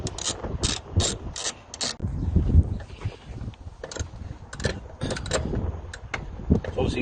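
A ratchet undoes the 8mm bolts holding a VW T4 headlamp, giving quick bursts of close, sharp clicking separated by brief pauses over steady workshop background noise.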